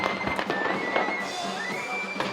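Firecrackers bang in the harbour at Sète to mimic cannon fire during a staged naval battle between three sailing ships. Several sharp cracks sound over constant crowd noise and a rising whistle.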